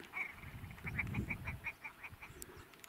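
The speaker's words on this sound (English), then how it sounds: "Listen to them bloody birds, man, they're weird." A flock of geese honks repeatedly in a quick, uneven series of nasal calls, carrying over a low rumbling outdoor background on Broadhope Hill in the Cheviot Hills.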